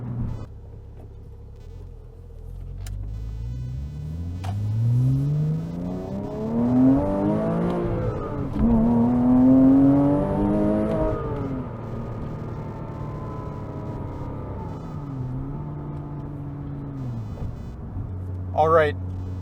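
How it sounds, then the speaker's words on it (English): Manual 2007 Porsche Cayman S driven in the rain, engine climbing through the gears toward redline with rising, falling pitch sweeps and shifts, heard from inside the cabin over road and rain noise. "Man, this car really pulls up top."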